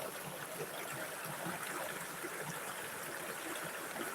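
A river flows steadily outdoors, its broadband rushing and trickling water holding an even, close level throughout with no talk over it.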